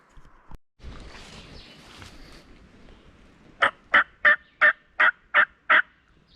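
Rustling and faint movement, then a wild turkey gobbler gobbles loudly: a rapid run of about eight sharp, evenly spaced gobbles, fairly close.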